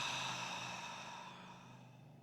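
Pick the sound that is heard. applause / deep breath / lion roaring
deep breath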